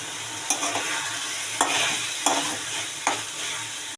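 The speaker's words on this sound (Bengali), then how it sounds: "মশলাটা কষা হয়ে এসেছে। এবার আমি দিয়ে দেব মটর। এবারে দিচ্ছি আলু আর গাজরগুলো। এবারে দিয়ে দেবো গাইস ফুলকপিটা।" Cauliflower is stirred into sizzling masala in a pan along with peas, potatoes and carrots for a mixed vegetable and paneer dish: a steady fry hiss broken by four sharp scraping stirs, close and fairly loud.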